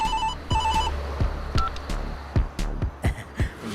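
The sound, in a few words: wireless phone ringing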